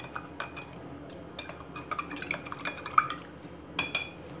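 A spoon stirs sugar powder into glasses of mint iced tea, giving light, irregular clinks and taps against the glass with soft liquid swirling. The sound is close and fairly quiet, with no talking.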